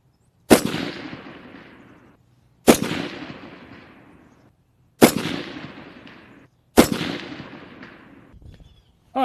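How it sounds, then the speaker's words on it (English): Four rifle shots are fired at a steel target at 300, evenly spaced about two seconds apart. Each is a sharp, loud crack with a long, decaying echo tail, and there is no talking between them. "All right, Cleveland, give me a couple shots on the steel."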